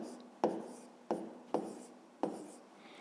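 Pen strokes scratching on paper as numbers are written by hand for a maths exercise, four short distinct scribbles with pauses between, close and quiet.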